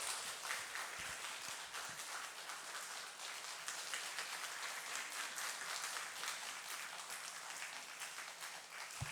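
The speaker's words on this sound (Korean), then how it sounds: "목사님 강단에 올라오실 때 큰 박수로 환영해 주시기를 바랍니다" Congregation applause in a church as a pastor steps up to the pulpit: steady, dense clapping from many people, fairly distant and soft, continuing without talk.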